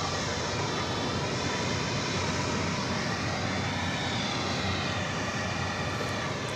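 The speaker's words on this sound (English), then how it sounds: "this one is an Airbus A321, and this is going out to Phoenix, Arizona" An Airbus A321 jet airliner takes off at DFW Airport with a sustained loud roar that stays steady the whole time.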